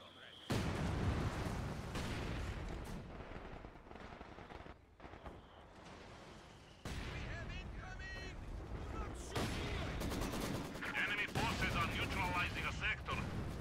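Heavy machine gun fire from Soviet troops battling Germans in Company of Heroes 2 rattles in continuous dense bursts, mixed with explosions and game voice lines throughout.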